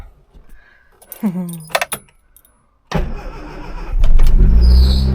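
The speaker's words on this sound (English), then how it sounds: "Oh my god, fan belt squeal" Keys jangle before an old car with its choke out cranks and fires, settling into a loud running engine with a high fan belt squeal rising above it.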